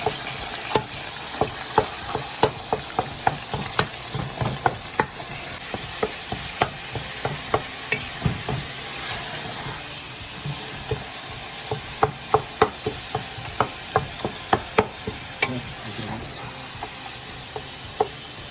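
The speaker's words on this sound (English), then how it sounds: "start breaking the keema. You don't want clumps, you want it nice and loose." Keema mince being broken up and stirred in a hot pan, with a dense sizzle under a rapid, regular series of sharp spatula scrapes and taps that keep going without pause.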